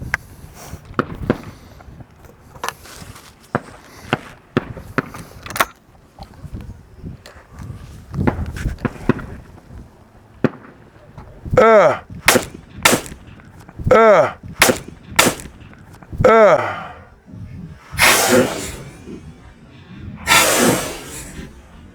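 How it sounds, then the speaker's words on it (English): A trapshooting shotgun fires a doubles pair and more shots outdoors, loud booming reports in quick pairs amid shuffling, clattering and handling noises, with no speech. "We'll shoot one more pair."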